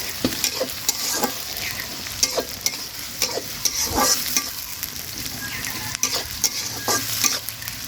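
Winter vegetables with onion fry in a pan for a village-style meal alongside catla fish kalia, with steady sizzling and frequent sharp scrapes and clicks of a spatula stirring. The cooking sounds are close and continuous, with no voices.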